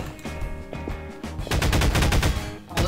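Rapid automatic gunfire from a weapon in the video game Garry's Mod, loud dense bursts of shots, sparser at first then a sustained volley through the second half with no talk.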